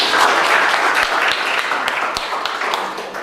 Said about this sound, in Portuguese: Palmas para os perfis, palmas para vocês.